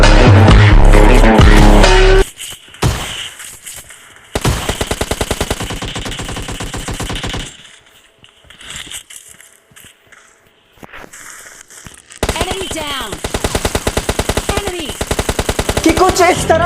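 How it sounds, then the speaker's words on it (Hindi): Gunfire in the PUBG video game, heard as loud bursts of rapid automatic fire set into a music beat, cutting in and out in sections with brief quiet gaps between. "अब हमें म्यूजिक बीट में भी गोलियों की आवाज आती है"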